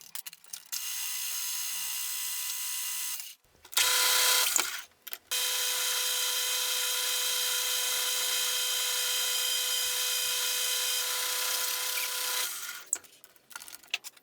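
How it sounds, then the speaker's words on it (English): A lathe drills a steel go-kart track rod in a long, steady whirring run, loud and close, broken by two short pauses and a brief higher burst. "I'll then flip it, clean up the other side and then get it drilled."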